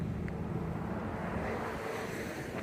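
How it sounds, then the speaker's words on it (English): Wind rushing over the open water of the South Fork of the Catawba River in Carolina, a dense, continuous roar of gusts buffeting the microphone up close with no voices. "that wind just comes whipping down that open water there"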